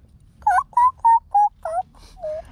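A child imitates a chicken with six short, tonal clucking calls in a quick, even series, close and fairly loud over a quiet background.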